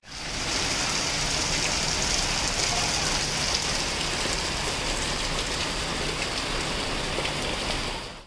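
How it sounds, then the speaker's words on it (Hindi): Heavy rain pours steadily outside, a dense, even hiss of drops on surfaces that holds at constant loudness throughout with no voices. "बाहर मस्त बारिश हो रही है"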